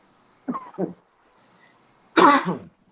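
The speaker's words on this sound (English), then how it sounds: "sorry to cough in y'all ear" Two bursts of coughing with no voices: a short double cough first, then a louder, harsher cough a moment later, both close and clear.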